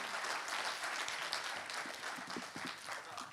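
A poetry event audience applauds a poet named Chris, a steady wash of hand clapping from a moderately sized crowd, fairly even in loudness across the whole stretch, with no talk over it.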